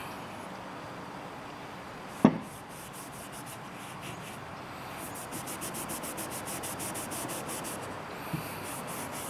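Rag rubbing oil into wood in a knife shop, a soft, steady scrubbing hiss close by, with one sharp knock early on and faint rhythmic ticking later, no talking.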